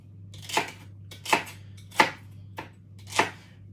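Celery is chopped with a knife on a board in five separate crisp cuts, spaced unevenly about half a second to a second apart, close over a faint steady hum.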